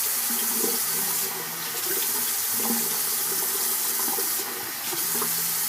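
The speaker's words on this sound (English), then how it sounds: "I usually just run a sink full of the warm water" Warm water runs steadily from a tap into a bathroom sink, a continuous broadband rush that stays fairly loud and even throughout, with no voices.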